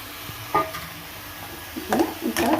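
Chopped dill greens sauté in a pan as a utensil stirs them, with several scraping strokes and soft sizzling, busier toward the end.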